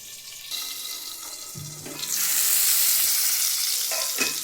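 Potatoes sizzle in hot oil in a pan on a gas flame, a soft frying hiss that swells into a loud, bright crackle as they are stirred, with scattered scrapes of the spatula.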